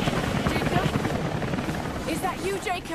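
A helicopter in the video game Rise of the Tomb Raider gives off a loud continuous rotor chop and engine roar that fills the whole stretch, with brief game sounds riding on top near the end.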